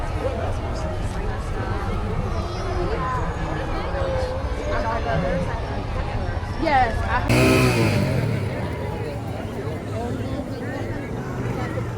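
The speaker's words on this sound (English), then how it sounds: "here is the RV that's been with them and some of the other vans, some of the support vehicles" Road traffic noise from an RV and support vans rolling past a peace walk through Charlotte, a steady engine and tire rumble with one louder pass partway through, under ongoing nearby talk and crowd murmur.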